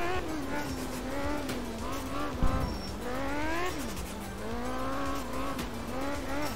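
Rally car engine in the Art of Rally video game revving and shifting as the car slides on a stage, with a steady drone rising and falling in pitch and a brief thump midway, heard close up throughout.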